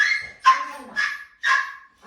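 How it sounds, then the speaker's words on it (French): A dog gives several short barks mixed with whining whimpers, fairly close and loud, in a rhythmic series of separate bursts. "Ah, le chien n'est pas sage."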